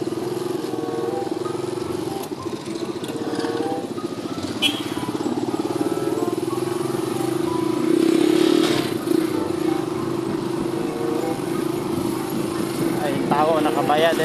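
A Suzuki Raider motorcycle engine runs close by in a steady, droning idle that swells slightly midway, with background voices faintly underneath throughout.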